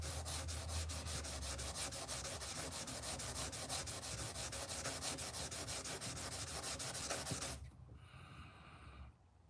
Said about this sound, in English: let's work on these bolsters since we got our little sanding pad out.